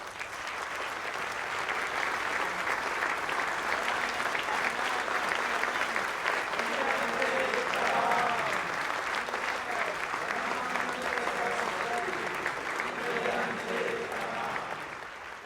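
Audience gathered for a Transcendental Meditation event applauds in a dense, sustained wave of clapping that holds steady throughout, with faint voices mixed underneath.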